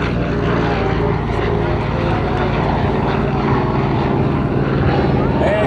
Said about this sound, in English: Flaps down, gear down, drag an airplane right down air show center line course.